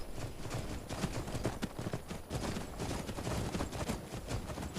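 Horse hooves clip-clop steadily in a fast, continuous rhythm while riding in the Skyrim game, with dense overlapping footfalls near and loud throughout.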